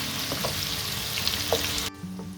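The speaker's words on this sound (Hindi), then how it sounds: "तो देखिए यहाँ पर हमारी प्याज बहुत अच्छी तरीके से गोल्डन ब्राउन हो गई है" Onions frying in oil until golden brown for biryani, a steady close sizzle with faint stirring, ending in a brief break before quieter frying resumes.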